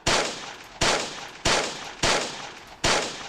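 Five sharp, loud sniper-style gunshots from the Roblox game Salvage, spaced roughly evenly, each cracking hard and then trailing off in a short decay, with no talk over them.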